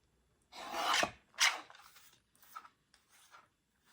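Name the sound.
small Fiskars paper trimmer cutting paper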